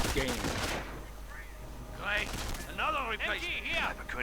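Gunfire in a strategy video game rakes advancing riflemen: bursts of shots and rattling fire, loudest at the start, with a commentator talking over much of the action.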